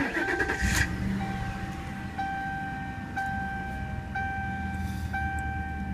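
A 2011 Ford Crown Victoria Police Interceptor with about 122,000 miles starts up: a brief cranking burst, then the engine settles into a steady idle while a faint chime repeats at regular one-second intervals.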